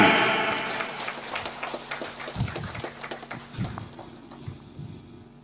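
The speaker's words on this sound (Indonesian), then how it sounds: "Tepuk tangan." Audience at a religious lecture (pengajian) clapping, loud at first and then thinning into scattered claps that fade away, with no speech.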